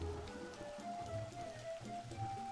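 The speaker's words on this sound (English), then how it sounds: "It's always raining." Soft patter of rain falling in the game Final Fantasy XI, a faint, steady drizzle layered under quiet tonal game music with sustained notes.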